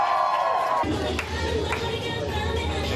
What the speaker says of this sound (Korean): 환호와 함성, 유람선의 분위기는 더욱 달아오릅니다